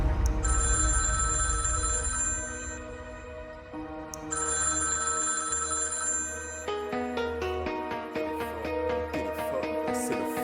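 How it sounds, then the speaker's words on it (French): A telephone rings repeatedly as bright electronic trills woven into a music track, with layered tones and a steady beat underneath, moderately loud throughout. "Téléphone."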